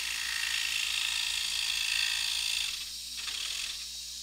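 Scroll saw blade cutting through thick one-inch hand-milled wood for an intarsia squirrel, a steady high rasping buzz close up that runs continuously, then eases and thins in the last second and a half.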